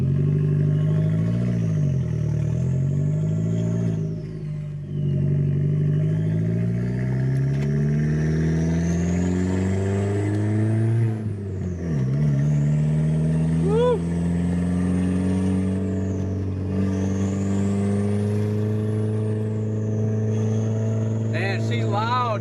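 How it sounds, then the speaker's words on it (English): A VW Passat B5 with a 1.8T turbo engine revs loudly and steadily up close. Rising and falling turbo whistles spool over the deep engine drone, repeating through several rev cycles. "That turbo's spooling so clean"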